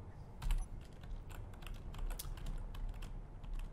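Computer keyboard keys pressed while playing Space Engineers, with a steady run of quick, close clicks and taps and a few louder strikes, with no voice.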